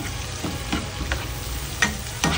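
Onions and onion leeks frying in a pan while being stirred, a steady close sizzle broken by several sharp scrapes and knocks of the utensil, with no talk.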